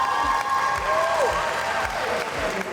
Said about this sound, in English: Round of applause for girl 18, please